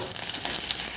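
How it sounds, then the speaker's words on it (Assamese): Crushed onion, ginger and garlic frying together in oil, a short, dense and fairly loud sizzle crackling close by with no talk. "পিঁয়াজ আৰু আদা ৰচুন থেতেলিয়াই লৈছিলোঁ, সেইখিনি গোটেইখিনি একেলগে দি দিছোঁ। দিয়াৰ পিছত মই অলপ সময় ভাজিম"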